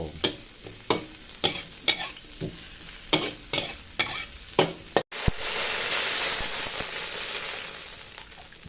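Shallots fry in a pan with rhythmic spatula scrapes and taps over a steady sizzle, then after a brief drop a loud, continuous hiss takes over, close up with no voices.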